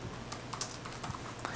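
A name is typed on a computer keyboard in a quiet room, with a short run of soft, close key clicks tapping at an uneven pace.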